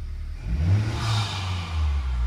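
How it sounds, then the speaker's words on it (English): A Honda Civic Type R engine fitted with a PRL intake inlet tube and high-volume intake revs up, its deep throaty note rising in a couple of swells and falling back to a steady idle, close and fairly loud. "We're going to give it some rev now."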